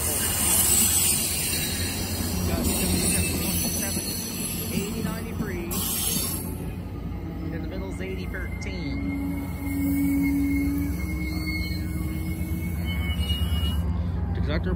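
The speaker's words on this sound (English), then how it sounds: "Once the train brakes to a halt" A MARC commuter train led by MP36 locomotive number 32 pulling five bi-level coaches, with mostly 8000-series cars, braking at a station. A steady heavy rumble carries squealing brake tones and mechanical clanks as it slows to a stop.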